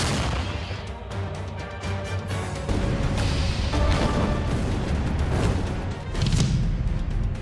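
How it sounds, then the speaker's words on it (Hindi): Loud, dense barrage of explosive rounds in drone warfare, with sustained booming and crashing blasts that swell heavier toward the end and leave no gaps between them. "ड्रोन फाइट का विस्फोटक राउंड।"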